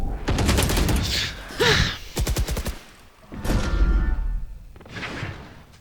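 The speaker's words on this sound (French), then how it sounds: "Tire dans le tas, Tom" Rapid bursts of automatic rifle fire in the video game Valorant, loud and close, with players talking over the shooting and brief pauses between volleys.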